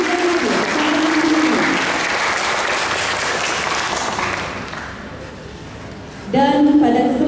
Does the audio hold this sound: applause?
yes